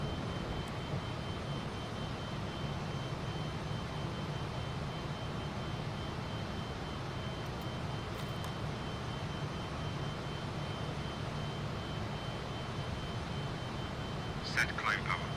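Twin jet engines of an F28 airliner at climb power in a flight simulator game produce a steady, full-bodied roar with a faint high whine, continuous and close, with brief cockpit clicks and tones near the end.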